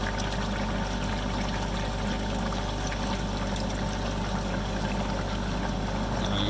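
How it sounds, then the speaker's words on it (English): Water pours and drains steadily out of a duck pond filter bed filled with lava rock, a continuous close rushing gush with a low pump-like rumble underneath, with no talk. "Just pretty much draining all the water out."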